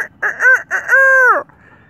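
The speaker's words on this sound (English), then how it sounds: "Somebody get this rooster and bring him home to a farm." A rooster crows loudly and close, a series of clucking bursts that ends in one long drawn-out cock-a-doodle-doo, heard alone with no talk.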